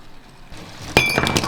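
A ceramic espresso cup falls off a model railway train and hits a hard floor. The impact gives one sharp, bright clink followed by a short ringing rattle, close and loud after a quiet rumble.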